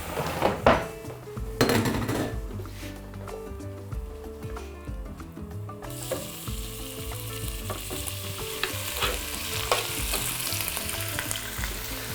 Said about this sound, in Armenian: եւ տապակենք